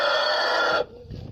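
A rooster on a small poultry farm crows one sustained call, fairly close and clear, ending abruptly into quiet yard background noise.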